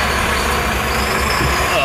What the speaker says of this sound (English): There's a loud ass truck next to me.